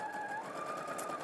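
A sewing machine stitches a seam in one steady, continuous run, its motor giving a close, even whir with no pauses.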